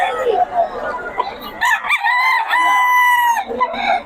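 Rooster at a poultry sale in Bocaue gives one loud, close crow, starting with a few clucks and ending in a long drawn-out call, while people talk faintly in the background.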